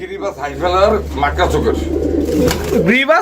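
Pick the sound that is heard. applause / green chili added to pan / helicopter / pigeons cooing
pigeons cooing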